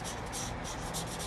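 A yellow marker rubbed across paper while colouring in a pumpkin jack-o-lantern drawing, making a close, steady, dry scratchy rubbing with slight pulses in its strokes.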